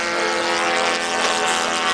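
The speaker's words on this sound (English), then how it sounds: "Powered by, I believe, a multiple cylinder OS 4-stroke engine." A model airplane powered by a multi-cylinder OS four-stroke engine lifts off, its steady, buzzing engine drone loud and continuous at close range.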